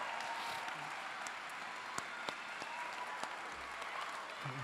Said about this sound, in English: if the audience would join me in a hearty round of applause